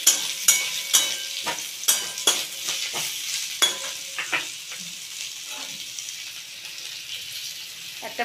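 Lightly boiled cauliflower and potato are sautéed in a pan, sizzling softly while a utensil scrapes and knocks against the metal in irregular strokes. The stirring clatters are louder at first and then thin out to a quieter sizzle.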